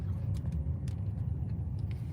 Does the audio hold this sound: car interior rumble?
yes